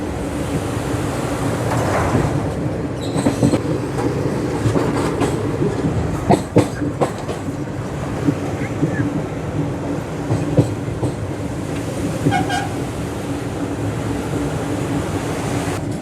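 Train rolling across the long Farakka bridge in daylight on the Kolkata to New Jalpaiguri run, a steady loud rumble with repeated clickety-clack wheel beats and metallic clanks, continuous throughout with no talk.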